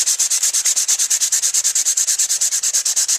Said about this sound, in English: I'm going to take my sandpaper.